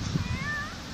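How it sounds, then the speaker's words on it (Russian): A tomcat out on a walk gives one short, close meow that rises and falls over faint outdoor background noise. "Да, мяу."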